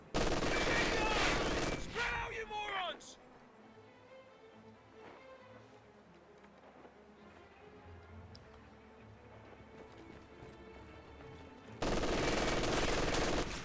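MG42 machine gun in a Company of Heroes 2 match, loud bursts of rapid fire at the very start and end, with quieter distant battle noise and a voice talking in between.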